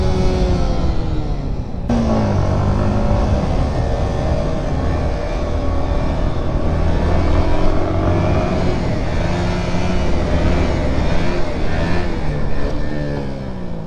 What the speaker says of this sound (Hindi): तो भाई अब स्कूटी पे व्हीली मार रहे स्कूटी पे व्हीली थ्रॉटल ज्यादा दो।